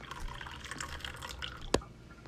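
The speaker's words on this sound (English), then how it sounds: "we just add our milk to whatever we're going to use to make our tea" Milk is poured into a pot to make Afghan sheer chai, giving a soft, irregular liquid trickle with small splashy drips and one sharper plunk near the end, close and fairly quiet.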